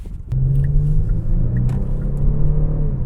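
A 2022 Genesis G70 Sport Prestige drives with a steady low engine drone and road rumble inside the cabin, holding an even, continuous hum that rises slightly as the car presses through corners.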